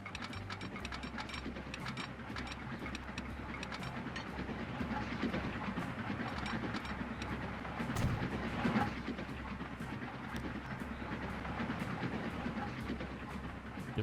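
A train runs along tracks in the video game Transport Fever 2, a steady, dense rumble with fast clicking rail noise throughout and a brief louder swell partway through; no one speaks.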